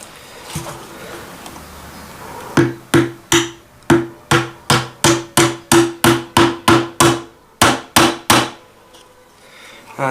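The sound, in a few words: hammering a nail into wooden ship hull planking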